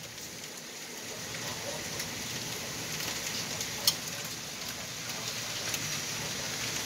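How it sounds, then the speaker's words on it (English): Pea-sized hail falls during a tornado warning. It makes a dense, steady hiss of patter with an occasional sharper tick, without letting up. "That's a lot of hail coming down."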